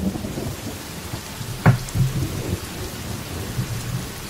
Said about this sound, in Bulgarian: Заваля дъжд.